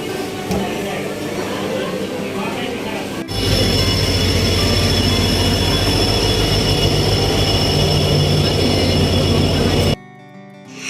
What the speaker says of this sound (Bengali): দশটার আগেই ট্রেনটা আমাদের দিয়ে দিল পুরী হাওড়া স্পেশালটা